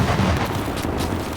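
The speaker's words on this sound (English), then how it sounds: "That was a Panzer shell or something." A tank shell firing in the Gates of Hell World War II video game: a loud, dense boom with a rumbling tail lasting over a second, filling the whole clip without any speech.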